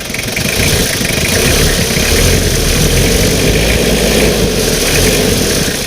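Steady, loud 2005 Toyota Mighty X pickup diesel engine (2L) idling nearby, a continuous rough rumble with a mechanical clatter and no voices.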